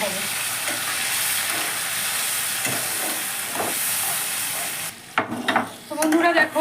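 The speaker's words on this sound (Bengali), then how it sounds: "আমার আলু দিয়ে মশলাটা খুব সুন্দর কষা হয়ে গেছে, তেল ছেড়ে গেছে" Spice paste with potatoes fries in oil for dhokar dalna, a loud steady sizzle and hiss close by for several seconds, then quieter scraping and stirring with a voice speaking near the end.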